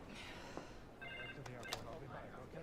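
A telephone rings at a luxury Berlin hotel, its electronic tones chirping repeatedly beneath ongoing conversation in the room.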